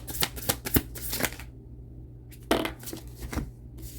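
Tarot cards are shuffled in two short riffling bursts with a brief quiet gap between them, close and crisp.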